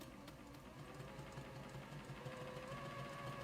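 A sewing machine runs steadily while stitching quilt pieces prepared with glue basting, giving a continuous mechanical hum with a fast repetitive rattle, close and moderately loud, with no one talking.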